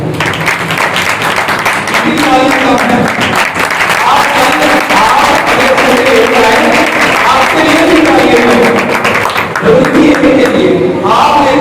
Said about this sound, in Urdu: آپ کے لیے بھی تالیاں ہوں گی